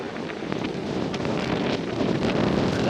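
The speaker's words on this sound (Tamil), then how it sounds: "நல்லா காற்று அடிக்குது." Strong wind gusting across an outdoor site by a historic temple, a dense, steady roar with buffeting on the microphone, loud and unbroken, with no talking.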